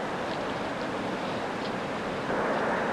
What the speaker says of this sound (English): I'm a bit worried about the wind. There's a bit of updraft, and wind's very dodgy.